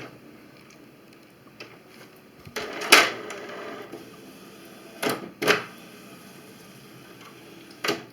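Quiet mechanical whirring and clicks, with a few louder sliding bursts as the cartridge carriage of a Canon MG2550S inkjet printer with error 5B00 shuttles back and forth.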